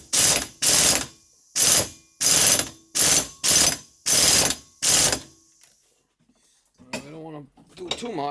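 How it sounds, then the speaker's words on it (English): A bench vise being tightened onto a John Deere 430 tractor's rear PTO shaft gives eight loud, evenly spaced ratcheting bursts, then quiet, then a voice speaks briefly. "I just gotta tighten this vise up so I grab that shaft"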